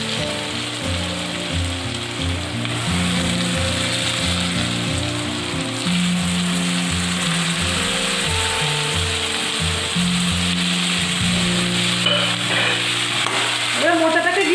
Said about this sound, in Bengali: এবার মোচাটাকে দিয়ে এর সাথে ভালো করে আমি কষিয়ে নেব।